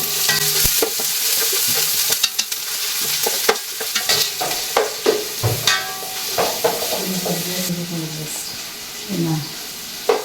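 Four slit green chillies fry in a pan alongside onion, giving a continuous sizzle broken by repeated spatula scrapes and taps as they are stirred, with brief faint voices in the background.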